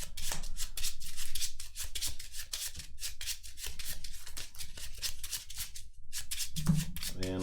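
A deck of KeyForge cards being shuffled by hand during a card game, a steady close run of rapid riffling and rubbing card sounds, continuous with brief pauses and no talking.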